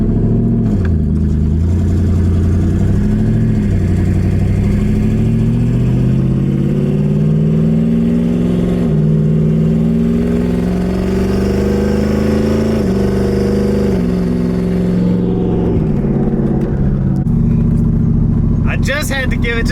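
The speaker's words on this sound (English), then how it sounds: "Just had to give it just a little bit of gas so you can hear the turbos" Twin-turbo engine of a 2018–2019 third-generation Ford F-150 revving, a loud, close, rising and falling drone with a sustained pitch climb, then settling, with a person talking over it.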